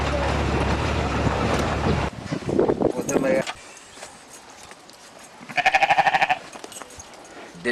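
A sheep lets out one wavering, pulsing bleat near the microphone, preceded by wind buffeting and rustling outdoors at a village.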